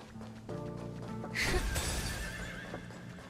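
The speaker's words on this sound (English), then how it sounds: "Well, there's a sound of the horse." A horse neighs once in a video game, a loud whinny rising midway through over sustained in-game music, with faint background tones before and after.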